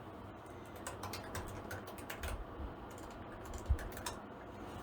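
Keys on a 2016 MacBook Pro keyboard with sticking arrow keys are typed at close range, an uneven run of quick light clicks and taps with one sharper knock near the end.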